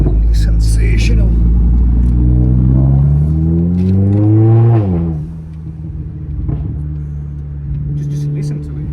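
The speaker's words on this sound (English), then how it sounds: "Love the sound of this car. Absolutely love the sound of this car." Mercedes-AMG A45 engine revving up loud and close, pitch climbing steadily before dropping back to a lower idle burble, with further lighter blips near the end.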